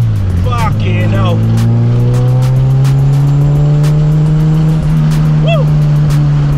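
A 1000bhp Honda Civic, tuned to about 720 horsepower, spins its wheels at speed: a very loud, near on-board engine note climbing steadily through the revs with brief squeals and whoops, and a voice shouting over it.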